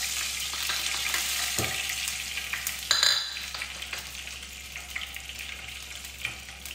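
Ghee heated in oil while cooking biryani, a steady close crackling sizzle with occasional stirring scrapes and pops, no voices.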